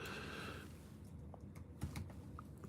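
Fingers tap on a computer keyboard, a faint, irregular patter of quiet keystrokes close by with no voices.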